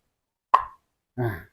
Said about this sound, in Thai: เสียงขวดดังบกเลยครับ